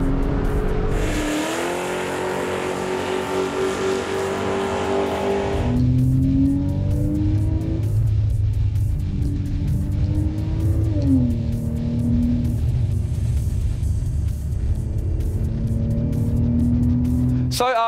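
A Porsche 997.1 C2 driven hard on a track, its engine revving up and down loudly through gear changes with rising and falling pitch and faint tire noise, continuous throughout.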